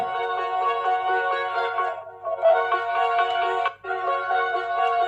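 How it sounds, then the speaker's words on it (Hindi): Tinny melodic music plays from a phone's small speaker, started from a Fire-Boltt Hercules smartwatch, phrases broken by two brief pauses, fairly clear and close. "फोन में म्यूजिक प्ले हो रहा है"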